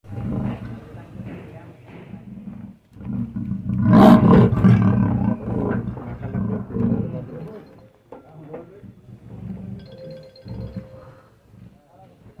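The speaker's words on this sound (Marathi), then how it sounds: "आता पकडले आहे बिबट्याचे पिल्लू।" A captured leopard cub growls and roars in harsh, gravelly bursts, loud and close, with a strong peak midway and shorter snarls after, amid background voices and vehicle noise.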